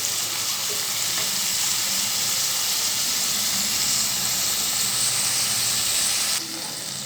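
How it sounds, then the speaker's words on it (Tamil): Chopped onions sauté in a pan for a spicy Tamil brinjal and greens curry, giving a steady, close, loud sizzle with a constant frying hiss throughout. "சேர்த்துட்டு இது நல்லா நம்ம வதக்கி கொடுக்கலாம்."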